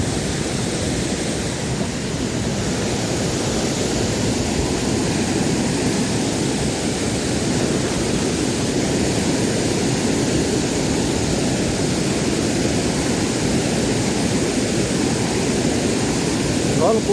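Strong waterfall water rushing at Cachoeira do Zola, a steady, loud and unbroken roar of falling water heard up close for the whole stretch, with no pauses.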